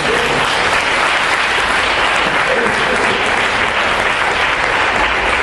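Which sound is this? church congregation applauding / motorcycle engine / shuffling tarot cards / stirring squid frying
church congregation applauding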